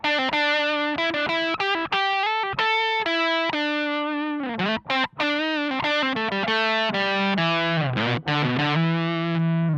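An electric guitar plays a run of notes through a Love Pedal English Woman distortion pedal, crunchy and sustained, with no voices.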